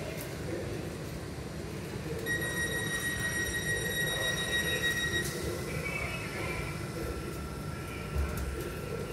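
Southern commuter train pulling away from London Victoria, a steady near rumble of wheels and rail noise with tonal whines rising from the traction motors partway through, low background voices faintly present.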